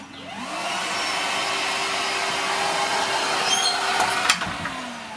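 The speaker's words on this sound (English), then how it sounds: "And your vac will turn on automatically," Makita AWS cordless dust extractor switching on automatically as a 40V 235mm cordless circular saw is triggered, a steady whirring drone that starts quickly and holds level for several seconds, ending with a brief clunk.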